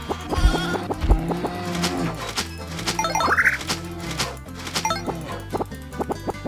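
Sheep in the farming video game My Little Farm 4 bleat repeatedly, several wavering calls in a row, close and clear over light game music and clatter.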